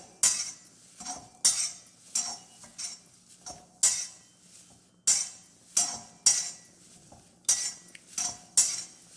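Spices for sambar powder roasting in a dry pan, tossed and stirred in short uneven bursts of rattling seeds and clanking spoon on metal, close and fairly loud, no voices.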